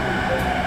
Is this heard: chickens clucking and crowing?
no